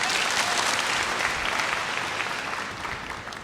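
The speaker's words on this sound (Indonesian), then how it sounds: "Mau tepuk tangan buat penciptanya?" A church congregation at a worship service gives a burst of loud, dense applause that fills the space and then gradually tapers slightly.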